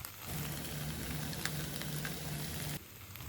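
Okra sizzles as it is sautéed in a pan, a dense close crackle that starts abruptly, holds steady for a few seconds with a faint rhythmic stirring tick, then drops away.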